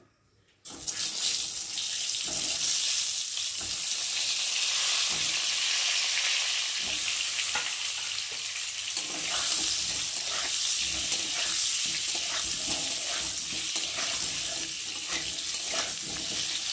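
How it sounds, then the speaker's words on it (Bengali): Parboiled potatoes go into hot oil left from frying eggs and crackle in a loud, continuous hiss after a quiet start, with occasional stirring knocks, close and steady throughout. "এবার ওই তেলের মধ্যে এখন দিয়ে দেবো আলুগুলোকেও ভেজে নেব"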